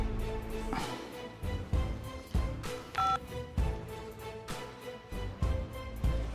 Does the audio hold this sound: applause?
no